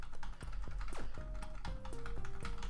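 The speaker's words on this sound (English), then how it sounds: "Sorry if my keyboard taps." Typing on a computer keyboard: quick, irregular taps and clicks close by, with an electronic game's tones and beeps playing underneath.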